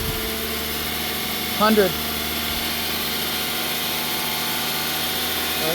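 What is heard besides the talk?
engine running at 2,500 RPM during oil pressure test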